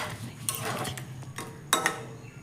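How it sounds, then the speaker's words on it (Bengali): Vegetarian ghugni curry is stirred in a pot with a utensil, producing faint scattered scrapes and a few sharp metallic clinks against the pot, quiet and close. "ভালো করে দেখো নাড়াচাড়া দিয়ে দিচ্ছি, আর এইভাবে ভালো করে সমস্ত কিছুর সাথে মিশিয়ে নিচ্ছি"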